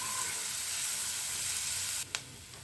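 Chopped onion and green chillies sizzle steadily in hot oil, a close, even frying hiss that runs without pause before a brief clatter near the end.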